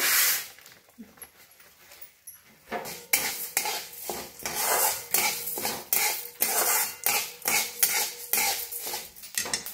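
Black peppercorns dry-roast in a pan for homemade red chilli masala powder, stirred continuously with rhythmic metallic scraping and rattling, close and fairly busy after a quieter start.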